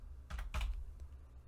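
Two quick clusters of keystrokes on a computer keyboard, close and quiet, followed by a faint single tap, with no voices.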